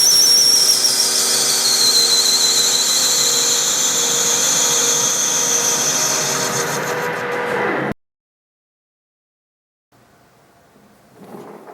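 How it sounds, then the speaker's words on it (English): A metal lathe takes a facing cut, giving a steady high-pitched squealing whine with machining noise for about eight seconds, then stopping abruptly; a faint quieter sound returns near the end. "we're going to do some experiments on the lathe over here, and we're going to do some facing cuts"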